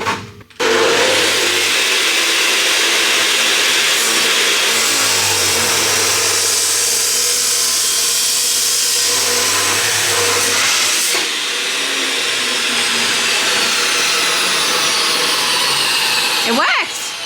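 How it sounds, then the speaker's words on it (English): Metal drop saw powered by a Jackery portable power station cutting through metal, a loud sustained whining motor and grinding screech that holds steady for many seconds, with a few dips and a sharp stop near the end. "this metal drop saw, when I use it in the shed, it actually sometimes cuts out when I use it to try and cut some metal"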